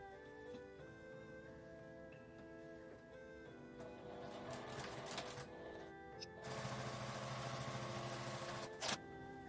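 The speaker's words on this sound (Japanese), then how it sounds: "反対側も端ミシンをかけます" A sewing machine edge-stitches the other side of a fabric mask with a clear window, its whirring stitches building in longer runs and ending with a sharp click, close up, over a faint steady background hum.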